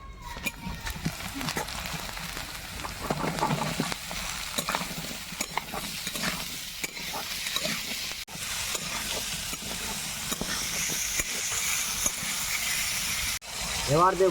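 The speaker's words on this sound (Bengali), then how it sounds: "পেঁয়াজটাকে আমি সুন্দর লাল লাল করে ভেজে নিয়েছি এবার কেটে রেখা ছাতুগুলোকে আমি দিয়ে দিই" Wild mushrooms frying and being stirred with onions already browned red in a pan, a steady broad sizzle with scraping stir strokes throughout, a voice speaking briefly over it.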